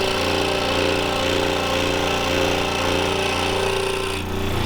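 A bow saw cuts steadily through a wooden template, giving a continuous loud buzzing drone with no pauses.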